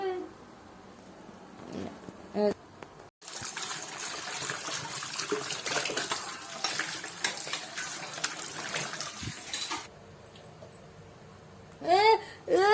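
Water runs and splashes steadily for several seconds in a quiet room, with a few short voice sounds before and after.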